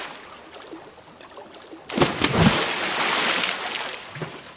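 A video game character wades through water. The sloshing and splashing starts abruptly about halfway through and carries on as a moderately loud, broadband wash.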